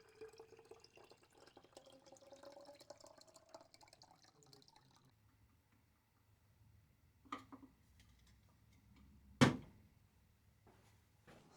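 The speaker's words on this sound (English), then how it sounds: "Now empty away the stop bath back into the concertina" Stop bath liquid is poured from a developing tank back into a plastic concertina bottle in a darkroom, a soft trickle and dribble followed by quiet handling clunks and a sharp knock.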